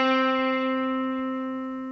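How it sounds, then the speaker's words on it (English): One electric guitar note rings out steady and clean with no vibrato. Its bright tone holds evenly and slowly fades over about two seconds. "here is a note with absolutely no vibrato at all"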